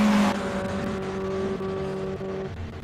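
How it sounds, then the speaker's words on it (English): Classic Alfa Romeo GTA race car in Martini racing livery climbing a hill climb course, its engine droning steadily with sustained harmonic tones, loud at first then holding a strong, slightly wavering pitch as it pulls away. "Alpha GTA going up"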